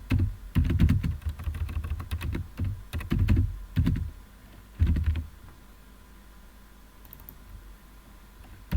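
Code being typed on a computer keyboard, with rapid bursts of clacking keystrokes close up, pausing and resuming several times before the keys fall quiet.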